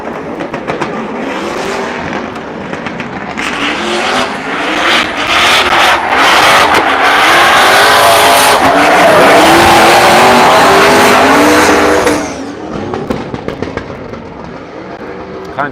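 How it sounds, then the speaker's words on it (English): Drift race cars at a practice session in Cyprus approach with a rising engine roar, then hold loud, sustained tire squeal and revving for several seconds before the noise cuts off and fades. There is little talk. "I hear a car coming."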